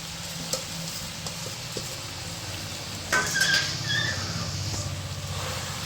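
Chopped onion greens tossed into a pan of frying potato, eggplant and snails, a quiet sizzle with a few light taps before a louder burst of crackling frying as they hit the oil.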